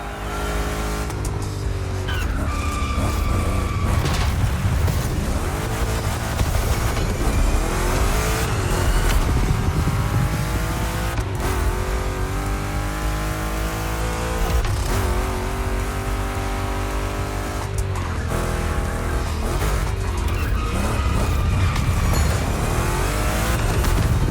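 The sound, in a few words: Chevy big-block cars racing in video game The Crew Motorfest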